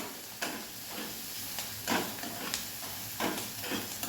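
Garlic frying in a pan over medium gas for bharit, a quiet continuous sizzle with a few soft stirring scrapes and clicks at irregular intervals, close up and without voices.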